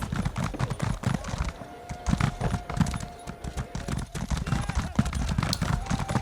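Steady clip-clop of horse hooves on a hard city surface in the video game Elder Scrolls Online, rhythmic and fairly close, with a faint sustained tone and soft voices underneath.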